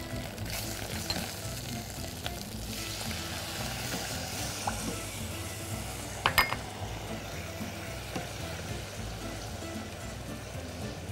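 Coriander and vinegar sizzle loudly and steadily in a hot pan for Egyptian tasha, a dense crackling hiss with a few sharper spits and clinks partway through.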